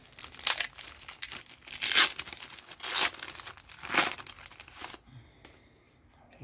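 Wax wrapping on a 1991 Pro Set NFL football card pack is torn and crinkled in close, loud bursts about once a second, followed by quieter rustling at the end.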